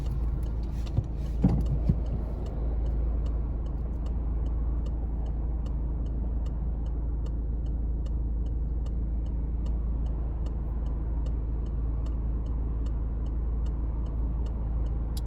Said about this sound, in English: I've just put my signal down for left